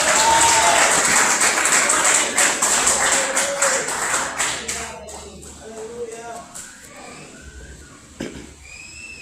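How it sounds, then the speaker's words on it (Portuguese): A church congregation claps and cheers loudly with a whistle rising above it, then the applause thins into scattered claps, taps and shuffling, with voices calling out over the tail. "Aplaude ao Senhor."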